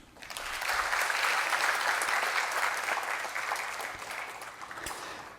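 Warm applause from an audience at a research conference on Vaishnavism in India swells quickly and holds steady, a dense even wash of clapping that slowly fades near the end.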